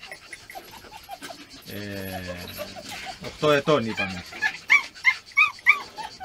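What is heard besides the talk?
beagle dog panting and whimpering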